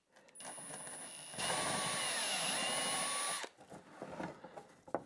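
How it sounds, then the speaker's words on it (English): A power drill whines steadily for a couple of seconds drilling holes in wood for a router planer sled, loud and close, then stops, followed by scattered knocks and handling sounds. "Now I can drill out those holes."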